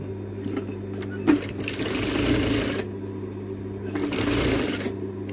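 Domestic sewing machine running a long straight seam through fabric for a homemade face mask, a close steady mechanical whir in two sustained bursts with a brief pause between them and no talking.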